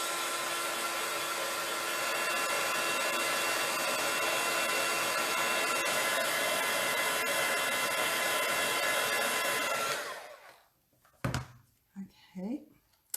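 A hair dryer blows loud and steady for about ten seconds to dry paint on a stencil, then cuts off, followed by a few soft handling sounds.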